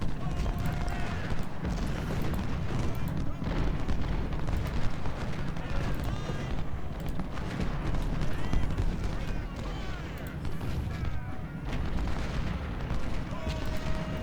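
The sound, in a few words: artillery guns firing in Ultimate General: Civil War video game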